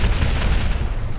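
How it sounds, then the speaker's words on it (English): Booming explosions in the video game Shadow Complex, a loud dense rumble with a few heavy hits packed close together, no voices. "hearing the same booming sounds over and over and over and over"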